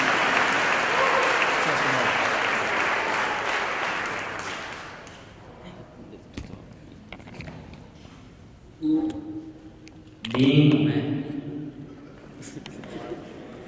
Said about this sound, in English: So please give him a round of applause, Mr. Isaiah Blanco.